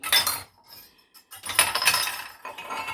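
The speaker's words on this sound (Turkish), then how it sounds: "Şu bardaklarda arkadaşlar Nescafe aldım demiştim ya. O kahvenin yanında çıkan hediye bardaklar." Promotional glass cups given free with Nescafe clinking against each other as they are handled, bright close-up chinks and rattles in a few bursts separated by short pauses.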